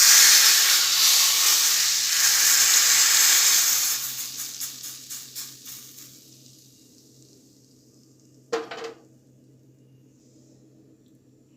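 A hot tempering of oil with Kashmiri chili is poured into cooked dal, bursting into a loud close hiss that fades over several seconds into sputtering pops, followed by a brief clatter.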